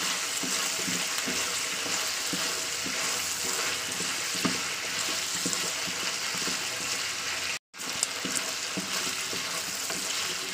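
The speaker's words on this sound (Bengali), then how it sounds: "একটু আলুটাকে ফ্রাই করে নেবো।" Potatoes fry in hot oil in a home kitchen, giving a steady loud sizzle with occasional stirring scrapes and a brief dropout near the end, no talking.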